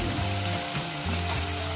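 Ginger sautéing in a pan for butter-sauce shrimp, a loud, dense, steady sizzle with a low hum running underneath.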